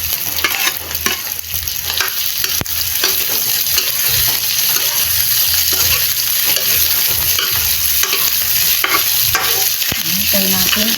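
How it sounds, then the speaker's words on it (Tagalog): Meat sizzles and fries loudly in a pan for pancit, with steady crackling and scraping stir strokes throughout, up close, with no talking. "Igisa natin ng mabuti yan."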